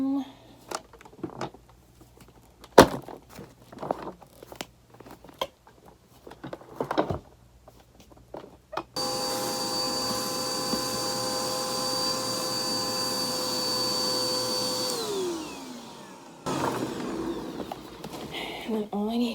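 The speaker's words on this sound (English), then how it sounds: "I come through with the vacuum." A household vacuum cleaner switches on after about nine seconds of intermittent rustling and handling noises, running loud and steady with a high whine for roughly six seconds, cutting off, then starting up again near the end.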